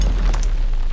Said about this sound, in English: an explosion has just destroyed the grand foyer